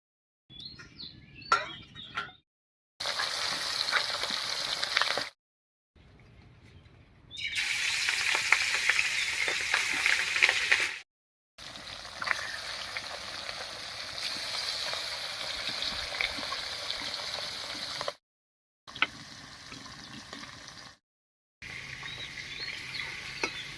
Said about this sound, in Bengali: মাছগুলো ভাজা হতে হতে